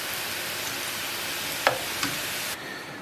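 Steady broadband sizzle of potatoes browning in a frying pan, with a couple of sharp utensil clicks near the end, no voices.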